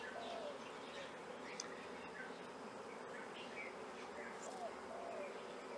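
Steady, dense buzzing of many honey bees at a tropical hive with sealed brood and young bees, with faint chirps of birds in the distance.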